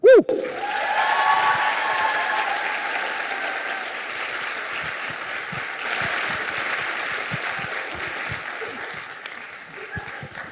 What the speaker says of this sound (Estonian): teeme ühe hästi suure aplausi Eesti Tantsuagentuuri tantsukooli 15. sünnipäevaks